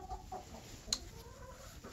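Hens in a backyard chicken coop on a ranch, giving a few soft, scattered clucks at middle distance over a steady low background hum, with one sharper brief call near the middle.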